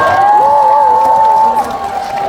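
A studio audience at a Korean trot music show cheers loudly for a performer. A sustained high shout or whistle rides over the noisy crowd before the cheering settles slightly.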